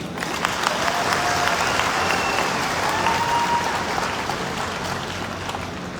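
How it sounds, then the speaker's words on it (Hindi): An audience applauds at a business seminar on the IMC industry, a loud, dense, steady wash of clapping that fills the whole stretch without pause. "तो ऐसी इंडस्ट्री के ऊपर जोरदार ताली होनी चाहिए।"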